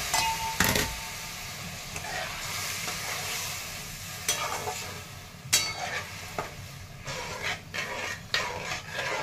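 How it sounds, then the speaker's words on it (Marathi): Cooked chickpeas stirred into a masala frying in a pan, with a continuous sizzle under scraping spoon strokes and sharp clinks against the metal pan at irregular intervals, close up and without speech. "शिजलेले हरभरे टाकून घेत आहे."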